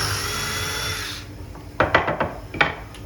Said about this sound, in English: we're going to drill clearance holes